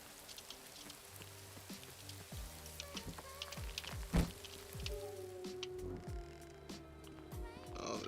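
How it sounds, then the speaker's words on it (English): Rain falls steadily in the Rising World survival game, a dense patter of drops running throughout, joined by periodic low thuds and a voice speaking over it. "I had a feeling it was dark and it was raining."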